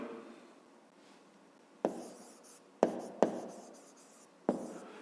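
A pen writes a maths exercise on paper, with soft continuous scratching and a few sharp taps as strokes begin, close and quiet with no talk.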